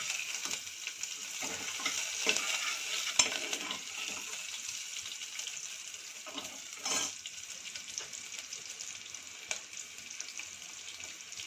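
Onions fry in a pan while a spoon stirs them, a soft continuous sizzle broken by occasional scrapes and light clinks of utensil against metal, fairly quiet, no voices.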